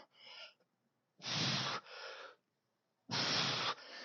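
Heavy, forceful breaths after hip thrusts with a resistance band: several sharp, noisy exhales and gasps close to the mic, in two strong bursts separated by quieter pauses, with no talking.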